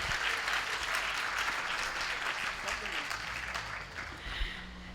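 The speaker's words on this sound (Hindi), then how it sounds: "एक बार जोरदार तालियों से अभिनंदन करें भाई।" Loud, sustained applause fills an indoor community gathering honouring a Jain monk, with steady dense clapping from a large audience throughout.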